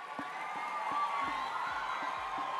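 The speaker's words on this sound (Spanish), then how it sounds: "Queremos que los recibamos con un fuerte aplauso." An audience at a church couples' event welcomes guests with applause and cheering, heard faint and distant as a steady crowd murmur with scattered whoops.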